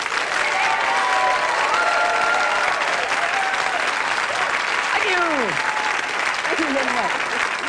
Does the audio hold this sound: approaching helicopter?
no